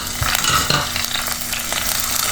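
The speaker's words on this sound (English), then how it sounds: "So I'm here frying some pieces of coconut" Coconut pieces fry in hot coconut oil for a Kerala curry, a dense, continuous close-up sizzle broken by a few scraping stirs of a utensil in the pan.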